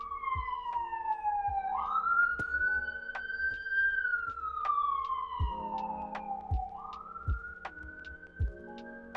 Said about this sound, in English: Yes, this siren is gonna kill me.